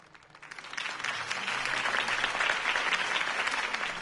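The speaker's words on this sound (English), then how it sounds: "If only Mr. Wayne, my campaign's largest backer, could have heard that applause" Crowd applause after a campaign speech swells quickly from quiet to a loud, dense, sustained clapping that holds steady for several seconds.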